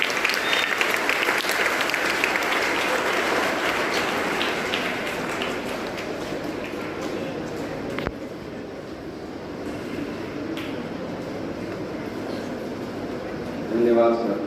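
Loud, sustained applause for children at a singing competition fills the clip, a dense steady clatter of many hands that eases slightly partway through, with a brief sharp knock near the middle.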